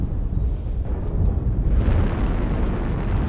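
Weapon fire strikes a Hunchback mech from behind in MechWarrior Online, a dense, rumbling barrage of explosive impacts that swells louder midway and keeps pounding steadily.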